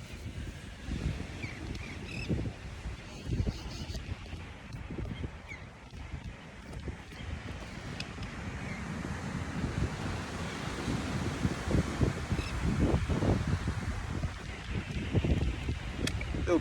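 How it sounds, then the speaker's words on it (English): Blustery wind by the sea, rumbling across the microphone in low gusts with surf and water noise underneath, continuous and fairly close, with no speech. "Can you stop, wind, please?"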